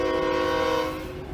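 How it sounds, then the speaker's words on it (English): A train rumbles close by with a steady low roar and sustained horn-like tones, loud and continuous, fading slightly toward the end, with no voices. "there's a train right there"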